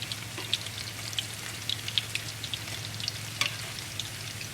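Zucchini fritters fry in a pan of hot oil with a steady close sizzle, dotted with small irregular pops and spits, and no voices over it.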